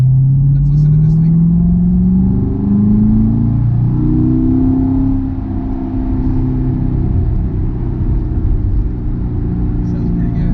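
C7 Corvette Grand Sport engine idling and revving up, a deep loud rumble that rises in pitch, eases back, and settles into a steady drone heard from inside the car.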